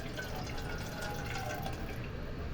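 The first rice-rinsing water is poured out of a bowl in a steady, close trickling splash that lasts the whole moment without pause.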